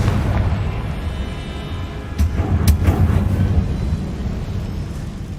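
Deep booming blast of the Confringo fire spell in Hogwarts Legacy, a low rumble swelling into a louder burst with a couple of sharp cracks midway, set against a constant dense game-sound background.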